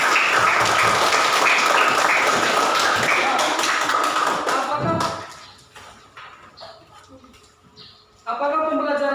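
A classroom of students claps for their success, a dense, steady burst of applause that fades after about five seconds into scattered taps and faint voices before a short loud burst returns.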